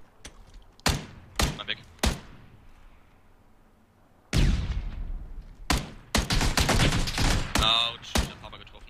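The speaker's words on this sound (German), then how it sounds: "Warte, ich werfe eine Blendgranate." A flashbang grenade thrown and going off in PUBG: several sharp thuds early on, then a loud, close blast around the midpoint followed by a cluster of bangs, with voices talking between them.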